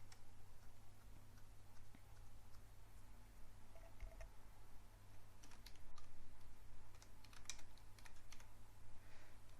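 Someone types HTML on a computer keyboard in a quiet room, producing a steady run of close, light key clicks with short pauses and a few sharper taps.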